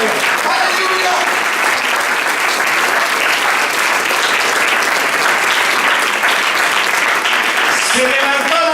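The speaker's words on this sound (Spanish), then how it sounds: "Aplaudan a Dios, Rey de Gloria" A church congregation at a Sunday service applauds loudly and steadily for the full stretch, with a voice heard over the clapping.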